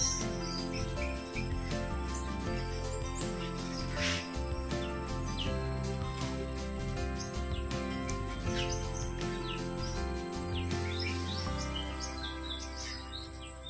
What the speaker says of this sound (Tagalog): Naririnig niyo po yung huni ng mga ibon na yan.